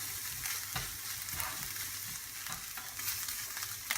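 Tomato puree and garlic puree cooking off in a hot pan, a steady hiss and crackle of sizzling with faint stirring scrapes underneath, quiet and continuous throughout.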